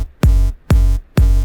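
Sidechain-compressed bass from the Kickstarter plugin pumping in three loud, evenly spaced swells, each cutting in sharply, holding, then ducking to near silence before the next beat.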